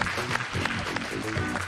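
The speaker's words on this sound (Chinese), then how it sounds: "我觉得大家应该给热烈的掌声。" An audience claps for a live band of guitar, suona, bass and drums at a televised stage show, a brief dense burst of applause with a faint voice underneath.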